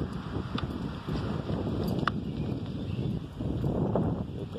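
Wind gusts buffet the microphone with a low, rumbling roar that rises and falls, with a few faint clicks and knocks in the background.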